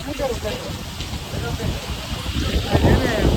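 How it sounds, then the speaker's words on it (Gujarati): Steady heavy rain pours on a rooftop terrace while low gusts of strong wind rumble underneath, a dense continuous wash of noise. "આ વરસાદ સાથે વધારે પવન છે"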